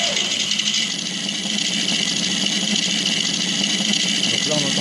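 A sound generator mimics an aircraft radial engine starting on a model hydroplane, giving a steady, loud, buzzing mechanical drone with a rising whine at the start and again near the end, heard alone.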